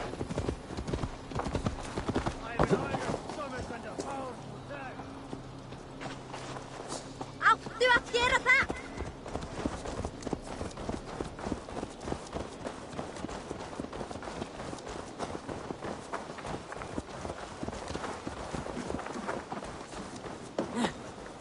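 Horse hooves clip-clop steadily in Assassin's Creed Valhalla, a close, continuous walking gait that runs the whole stretch with brief game voices and ambient tones in the middle.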